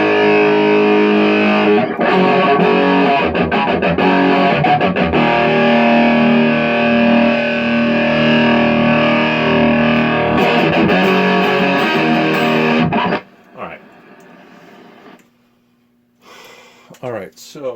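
A 1985 Marshall 5210 solid-state guitar amp with everything turned up roars with heavy distorted guitar chords and sustained notes, loud and saturated for about thirteen seconds before cutting to quieter picking and brief speech.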